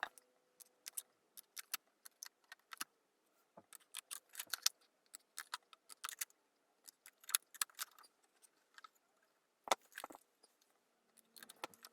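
Scissors snip along drawn lines through a rhodoid sheet or paper, a run of sharp, irregular close cuts with short pauses between strokes.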